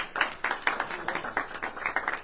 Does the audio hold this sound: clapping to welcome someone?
yes